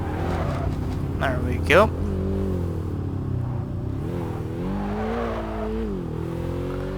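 A wagon's engine drones and revs in the Kaido Racer 2 racing game, a steady mid-level hum with rising and falling pitch sweeps, while someone talks over it.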